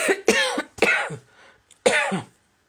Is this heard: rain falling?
no